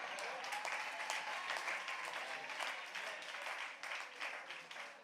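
A crowd at a birthday rally claps, dense applause heard at a distance and fairly quiet, holding steady and tapering slightly toward the end.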